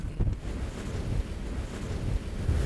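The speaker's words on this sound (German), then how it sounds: "Vorhin war der Wind ja noch ein bisschen niedriger. Jetzt wird das langsam mehr." Strong wind blowing at height near a wind-measuring instrument, a steady roaring buffet with low rumbling gusts that swell toward the end, close and loud with no voices.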